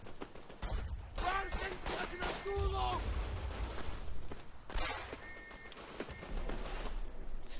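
A light machine gun fires rapid bursts in the World War I shooter Verdun, with dense crackling shots in a busy battle mix.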